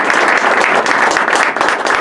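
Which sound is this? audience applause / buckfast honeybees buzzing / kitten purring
audience applause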